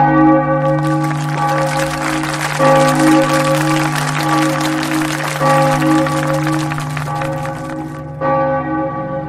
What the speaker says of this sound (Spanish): La noticia del fallecimiento fue recibida con un intenso aplauso y enorme conmoción entre los fieles